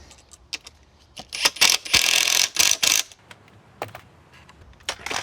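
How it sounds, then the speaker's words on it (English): A quick clamp is ratcheted tight on retaining wall timber, giving a run of quick bright clicking and rasping bursts, close and fairly loud, with brief pauses between the squeezes and no talk. "What I'll do is just use my quick clamp just to hold that tight."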